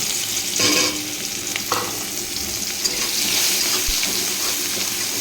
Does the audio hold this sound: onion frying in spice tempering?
yes